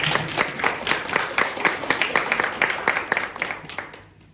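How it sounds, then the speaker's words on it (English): Audience clapping at an entrepreneurship masterclass, dense fairly loud applause from many hands throughout, tapering off in the last second. "And you should clap hands for yourself."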